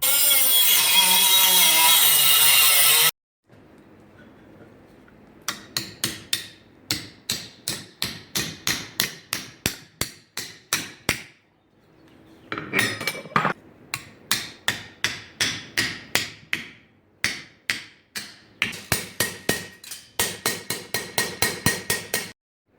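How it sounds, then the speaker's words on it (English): Copper being cold forged flat with a hammer for a hidden-tang knife spacer: a loud burst of grinding opens, then long runs of sharp, evenly paced hammer blows with brief pauses between series. "then I got to cold forge it flat"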